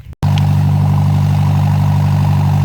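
A gas-fuelled four-cylinder engine drives a water pump. After a brief cut-off it starts straight into a loud, steady mechanical drone with a strong low hum that holds evenly throughout, and no one talks.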